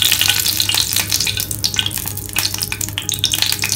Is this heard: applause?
no